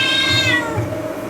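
A distressed cat meows loudly and close during an x-ray at a veterinary visit for back pain, one long drawn-out cry fading into a lower, grumbling tail.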